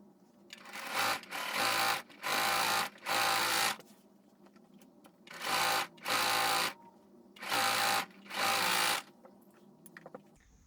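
A sewing machine stitches skirt fabric in eight loud, steady whirring runs of about one second each, set in close pairs and separated by short pauses, with faint ticks near the end.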